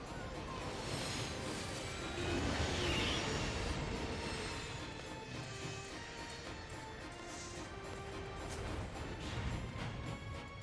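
Train ride in Final Fantasy VIII: a dense rumbling, clattering rail-car sound with metallic squeals and rising whooshes, loud and continuous throughout.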